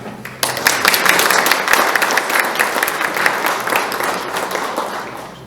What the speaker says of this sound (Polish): tylko bym poprosił o brawa